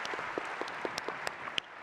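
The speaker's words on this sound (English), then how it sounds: "Let's give him a round of applause." Audience applause during the 43North Finals 2025 event, a steady, fairly quiet wash of clapping with a few sharper individual claps standing out.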